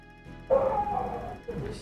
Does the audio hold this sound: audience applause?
no